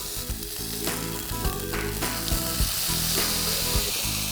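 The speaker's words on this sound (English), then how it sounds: "At the very end of frying, we'll add a dollop of butter to the pan and let it sizzle." A rib eye steak fries in a hot pan, sizzling loudly and continuously with crackling spatter, while background music plays and no one speaks.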